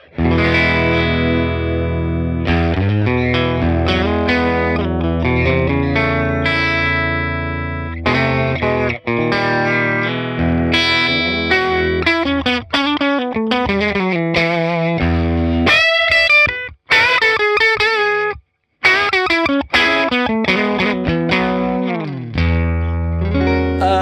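An electric guitar plays a long, lively riff of chords and single notes through a Fender Princeton tube amp with speaker simulation, loud and close, with crisp attacks and brief pauses.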